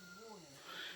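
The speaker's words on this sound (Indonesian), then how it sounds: "Ini adalah kucing beliau." A house cat gives a short, fairly faint meow-like call with a rising then falling tone, heard close by against steady background noise at a large house beside student lodgings in Palembayan, Agam.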